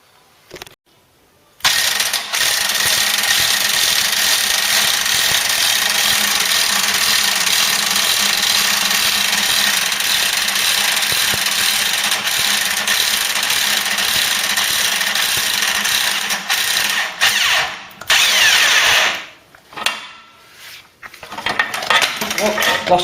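A power drill runs continuously and loudly for about seventeen seconds, a steady whirring drone with metallic rattling, then stutters and cuts out before brief restarts, in a workshop during work on a Ford Cortina.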